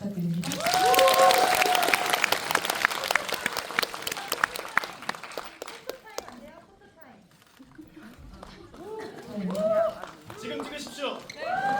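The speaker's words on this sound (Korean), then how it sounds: "큰 박수 부탁드립니다" Loud audience applause at a Korean drama press event fills the opening seconds, fading as a host's voice and crowd chatter take over, then a second swell of clapping near the end.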